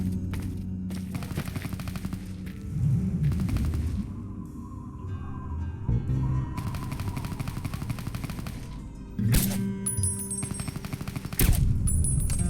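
Rapid automatic gunfire in the video game Fallout 3, loud bursts of shots crackling in long sustained volleys with brief pauses, then heavier bursts near the end.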